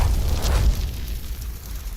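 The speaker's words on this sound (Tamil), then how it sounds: "உடனே அபிமன்யு இங்கே என்று கூறி அவன் தன் பையில் இருந்து வேகமாக ஒரு வெடியை எடுத்து அதை பக்கத்தில் இருந்த தீப்பந்தத்தில் பற்ற வைத்து அதை ஜோதியை நோக்கி எறிந்தான்." A thrown firecracker blasts with a deep, rumbling boom that swells, then slowly fades over two seconds, loud and alone with no voices.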